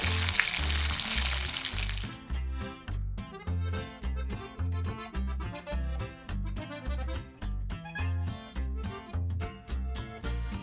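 Green masala beef sizzles in a frying pan, a steady crackling hiss clearest at the start and then running beneath loud rhythmic background music.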